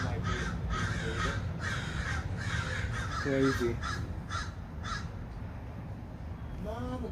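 Several crows gather in a tree and caw repeatedly in loud, rhythmic bursts, with a person speaking briefly in the middle.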